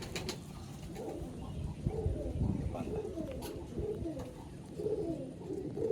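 Pigeons coo softly in a pigeon loft in a steady low murmur, with faint background noise throughout.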